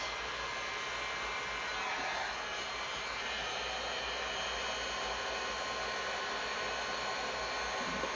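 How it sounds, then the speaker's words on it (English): A heat gun set to low blows a steady, even rush of air at a 45-degree angle, holding constant and fairly close for the whole stretch with no talking. "I'm going to put my heat gun on low at a 45-degree angle and start blowing it out"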